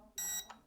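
A SYMA RC military helicopter remote control gives one short, bright electronic beep, loud and close, with a softer second blip trailing right after it.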